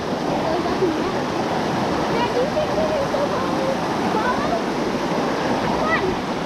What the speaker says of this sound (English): There's like waterfalls everywhere here.